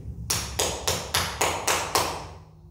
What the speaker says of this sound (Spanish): Llegué hasta la puerta de su casa y toqué.